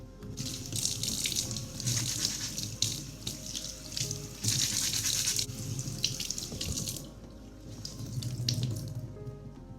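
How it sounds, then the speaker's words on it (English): Kitchen sink tap running onto a scrub sponge being rinsed and scrubbed clean of egg bits, a steady splashing flow with brief changes as the sponge moves under the stream. "don't forget to scrub your scrubby so you don't get little egg bits stuck all over it"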